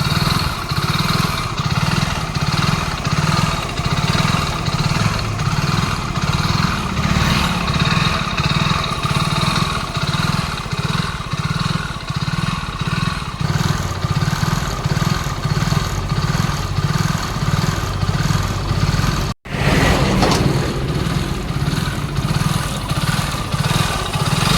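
A BS6 motorcycle engine with a scored bore, around 47,500 km on it, runs loud and close with a steady, rough, clattering idle throughout, broken by one brief dropout near the end.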